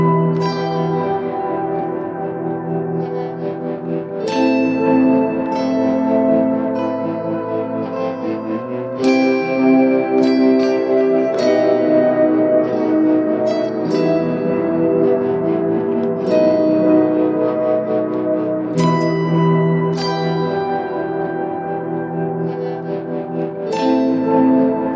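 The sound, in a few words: electric guitar part high up the neck, layered with looper pedal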